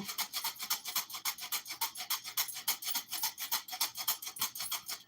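A hand whisk beats cocoa cake batter made with Hershey's chocolate in a bowl, giving fast, steady scraping strokes about four per second, close and loud with no talking.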